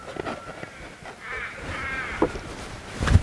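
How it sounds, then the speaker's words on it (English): Crows caw in the Australian wilderness beside the Darling River, a few harsh calls at moderate distance, the loudest near the end, over a quiet outdoor background. "Listen to those birds."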